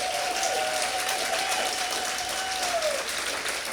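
An audience at the Nebraska Storytelling Festival gives the event's sponsors a round of applause, a full, close burst of clapping that carries through, with a soft sustained piano note sounding beneath it.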